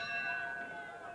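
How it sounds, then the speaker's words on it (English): A boxing match round bell rings with a sustained metallic tone that hangs steadily for over a second in the arena. "Second bell."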